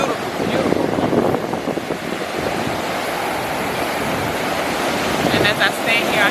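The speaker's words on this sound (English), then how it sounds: "Standing on the shores here in Ghana on Sankofa Beach." Ocean surf rolls onto Sankofa Beach in Ghana, a broad continuous wash with wind buffeting the microphone, heard up close and fairly loud with no talking over it.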